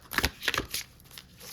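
A tarot card deck being shuffled by hand, several soft riffling bursts close up, fairly quiet, with no speech.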